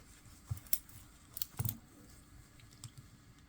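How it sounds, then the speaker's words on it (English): Unidirectional 120-click bezel on a Borealis Sea Storm Mk2 GMT dive watch turned by hand, a few faint, quiet clicks in short bursts, close up, with no talking. "The bezel, it's 120 click unidirectional."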